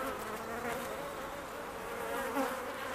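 A dense, steady buzz of many bees swarming close by, continuous and fairly loud throughout with no talking.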